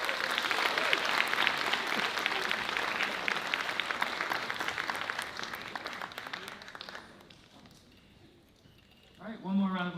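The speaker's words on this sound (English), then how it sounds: "one more round of applause for Isaac" A graduation audience claps steadily in a loud, dense burst that gradually thins out and fades, before a speaker's voice comes in at the end.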